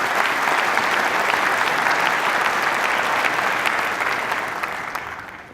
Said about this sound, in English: could everyone give a round of applause for that the person?